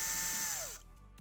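A power drill bores out the metal rivets on a 1966 Corgi Batmobile die-cast model, whining steadily and loud, then dropping in pitch and spinning down before a brief clunk.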